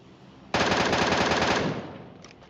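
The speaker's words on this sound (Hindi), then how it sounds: "अब आखिरकार मैं गोलियां चला सकता हूं" A loud, close burst of rapid automatic gunfire in PUBG lasting about a second, then a short echoing tail fading out.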